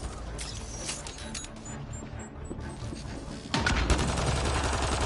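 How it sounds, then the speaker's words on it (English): Rapid gunfire in a PS4 action game, a steady stream of shots and crashing impacts that swells louder in the final second and a half, with no talking. "Just keep firing."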